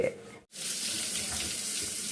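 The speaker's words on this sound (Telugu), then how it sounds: "వాటర్ చప్పుడు అవుతుంది" Water gushes from a tap into a sink, briefly cut off then running steadily and fairly loud.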